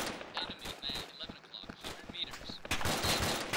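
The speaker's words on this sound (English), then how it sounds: "They're shooting at my house." Rapid bursts of gunfire from the Arma 2 video game, crackling shots in irregular clusters with a voice talking over them.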